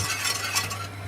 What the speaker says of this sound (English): I'm going to continue stirring the sauce